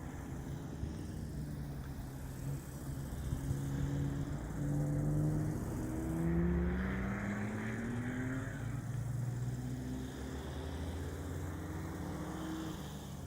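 Cars driving on a Swiss mountain pass road east of Andermatt, engines rising and falling in pitch as they climb and shift gears, a steady drone from nearby traffic with no talk.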